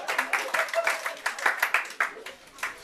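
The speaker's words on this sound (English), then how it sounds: "A round of applause for them, ladies and gentlemen." Audience applause at a magic show finale in a magic theatre: sparse, individually distinct claps from a small crowd, close and uneven in rhythm, fading toward the end, with a voice speaking partway through.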